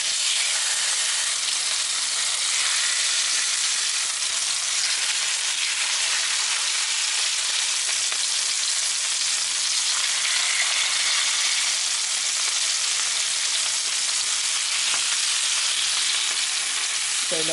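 Chicken pieces for brown stew chicken frying in a pan make a dense, continuous sizzle and hiss that stays even and fairly loud for the whole stretch, with no talking.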